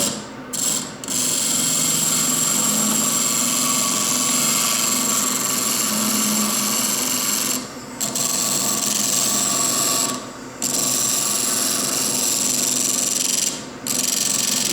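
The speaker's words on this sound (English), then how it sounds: "This is a 1200 mesh flex wheel." A lapidary machine spins a round cabochon against a 1200 mesh foam-backed flex wheel, giving a steady close mechanical whir with a few brief pauses where the motor drops off and restarts.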